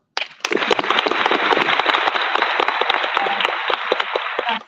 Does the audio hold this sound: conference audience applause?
yes